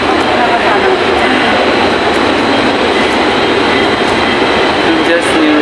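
An LRT/MRT metro train in Cubao rumbles past with a dense, loud, continuous roar of wheels and cars on the rails.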